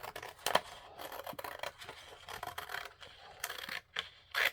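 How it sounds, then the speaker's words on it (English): Scissors or a blade cutting by hand through a used stencil sheet over a protective pad, giving faint, close, irregular snips and scratchy rubbing strokes with short pauses. "Now what we're going to do is just hand cut it right up through here."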